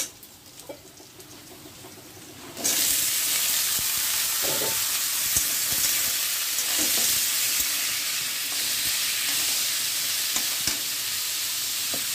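Food sizzles steadily in a hot pan in a home kitchen. The loud frying bursts in after a couple of quiet seconds and stays constant, with a few faint stirring knocks.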